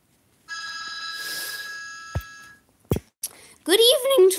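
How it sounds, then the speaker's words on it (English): A telephone bell rings steadily for about two seconds, followed by a few sharp knocks and then a person starting to speak nearby. "Listen to that phone."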